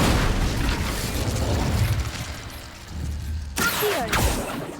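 Incendio fire spell cast in Hogwarts Legacy, a loud fiery burst and rumble spreading over a few seconds, followed by a sharp crackling flare near the end.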